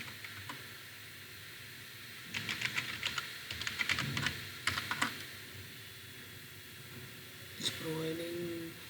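A burst of keystrokes on a computer keyboard as a command is entered, quick uneven clicking runs with short pauses over a quiet room hum, close by and fairly soft.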